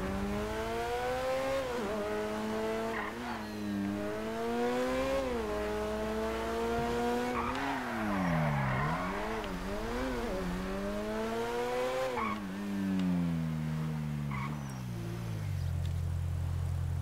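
Engine revving and accelerating in Grand Theft Auto V, a car's pitch climbing and falling in repeated sweeps, loud and continuous with brief tire squeal, no talking.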